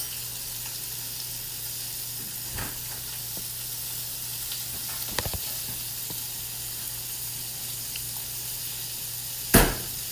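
Butter sizzles steadily in a frying pan as a roast is prepared, a continuous close hiss broken by a few sharp clicks and knocks, with no voices.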